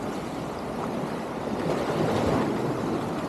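Sea waves wash against the pier at Collieston harbour in late December, a steady, moderately loud surge of water with wind noise and no voices.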